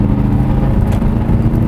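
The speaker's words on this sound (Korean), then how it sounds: "이 가변 배기 시스템이 열려가지고 막 그르렁 하면서 이 8기통의 그르렁거리는 음색이 제대로 전달이 되고 있어요" An Aston Martin DBX 707 SUV's V8 burbles with its variable exhaust open in Sport Plus mode: a loud, steady, deep growl from low revs under way, close and continuous, with no speech.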